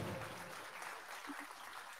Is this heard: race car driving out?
no